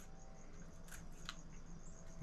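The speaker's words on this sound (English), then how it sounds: "I found the easiest way to do these is to cut them with scissors." Food scissors snip through small garden peppers, two quick crisp cuts standing out from a quiet kitchen background with no talking.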